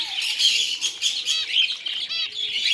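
Zebra finches in an aviary chirp rapidly and continuously, several birds overlapping in bright, close, high tweets.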